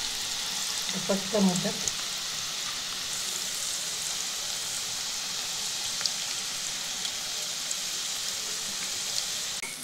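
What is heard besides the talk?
onion bhaji frying in hot oil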